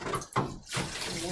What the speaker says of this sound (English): And then turn on the water.